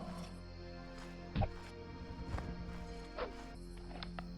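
A horse in the RPG Daggerfall, with quiet hoof clops at a few separate moments, one heavier thud among them, all over a steady low droning background.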